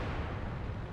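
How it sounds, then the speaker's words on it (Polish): A tank cannon fires in a tank video game, a single heavy low boom with a rumbling tail that fills the whole second. "Strzał z biodra w bulldoga, nieudany."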